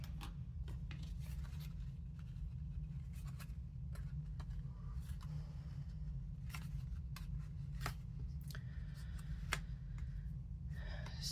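Scissors snipping the stems of a sunflower arrangement, a run of quick, close, crisp cuts scattered over a steady low hum of room noise, with no talking.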